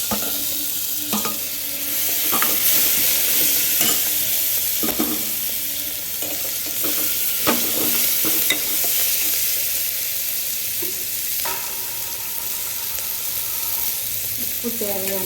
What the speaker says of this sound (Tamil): தக்காளி, வெங்காயம் வதங்கிடுச்சு